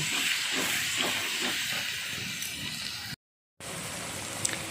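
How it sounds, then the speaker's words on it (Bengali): Ginger paste sizzling loudly in a hot pan of goat curry as it is stirred, a steady close hiss with scraping texture, broken by a brief gap of silence. "এবার দিয়ে দিলাম আদা বাটা দিয়ে এবার ভালো করে নেড়ে দিচ্ছি"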